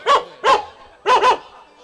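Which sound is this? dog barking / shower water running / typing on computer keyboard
dog barking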